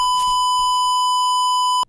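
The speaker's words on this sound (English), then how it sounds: "This whole video is silent except for this loud beeping noise that plays halfway into the video." A single loud, steady electronic beep sounds as a pure sustained tone, holding evenly for nearly two seconds before cutting off abruptly.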